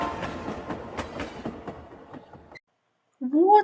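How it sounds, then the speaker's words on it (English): Rolling train passing with rhythmic clickety-clack of wheels over rail joints, close and fairly loud, fading out before a short burst of another sound at the end. "Can you hear the sound of a train?"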